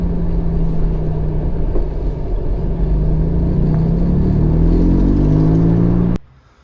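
A Morgan Plus 4 sports car approaches from a distance and passes, its engine rumbling steadily louder with a rising tone before the sound cuts off abruptly.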